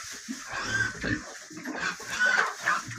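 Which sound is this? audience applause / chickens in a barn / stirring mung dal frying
chickens in a barn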